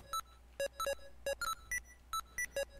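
A handheld Legend of Zelda LCD game emits a string of short, sharp electronic beeps in an irregular rhythm, clear and close against a faint hiss.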